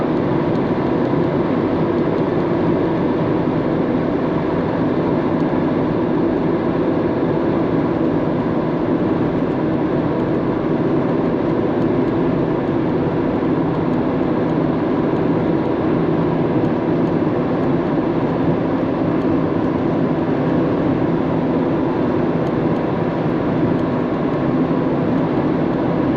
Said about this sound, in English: That's a manifest train.